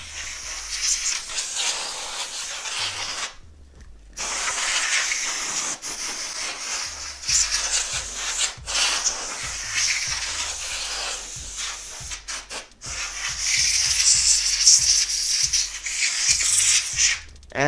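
Loud, hissing bursts of compressed air sprayed in long blasts with short breaks to dust a gaming PC, accompanied by low rhythmic fan whirring, close by.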